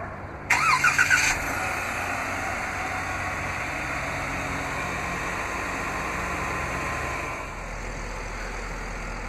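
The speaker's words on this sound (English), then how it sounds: "this vehicle is equipped with remote start. To operate is easy. Just double press the remote start button on the key fob." A 2016 Jeep Wrangler Unlimited 75th Anniversary Edition 4X4 starts by remote start: a brief, rhythmic cranking stutter for about a second, then a steady idle hum that continues evenly and settles slightly lower near the end.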